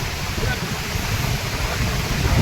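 Heavy water pours over Mukteshwar Dam in a steady, dense roar with strong low rumble, continuous and loud throughout with no break.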